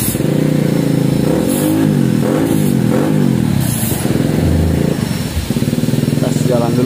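Suzuki Satria FU motorcycle with a stock exhaust that has been bored out, revving loudly and continuously up close, its rough engine note rising and falling over a few throttle blips.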